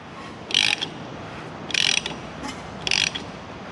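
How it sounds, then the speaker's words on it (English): Big ratchet wrench turning over a Mercruiser 4.3L Vortec V6 boat engine, three short loud clicking ratchet bursts evenly spaced, close up, over low background hum. "Let's grab our big wrench."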